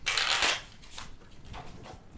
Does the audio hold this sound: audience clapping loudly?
no